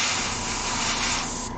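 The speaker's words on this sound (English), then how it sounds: "I want to say that took probably about like 3 overlays of spray there to get that color" An airbrush or spray can sprays paint onto a Gunpla model kit, a steady close, loud hiss lasting throughout and tapering slightly at the end, with no talking.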